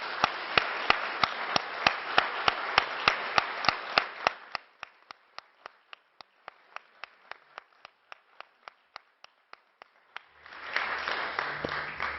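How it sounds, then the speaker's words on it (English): Conference audience applause builds into dense, loud clapping, then thins to a few scattered claps before swelling again near the end. "A big round of applause to them."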